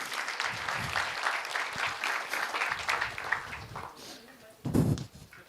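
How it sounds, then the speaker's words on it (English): An audience at a student induction program applauds a student, dense clapping held steady for several seconds under some speech-like murmur, then a louder burst near the end. "Please have a huge round of applause for him."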